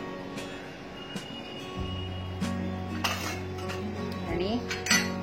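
Metal spoon clinking and scraping against a cooking pot while ground coconut paste is stirred into ash gourd curry, with several sharp, close clinks, rattles and a lingering ringing pot tone.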